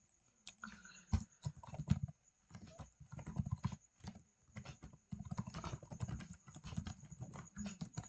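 Code typed on a computer keyboard, close irregular clusters of key clicks with short pauses, continuing steadily throughout.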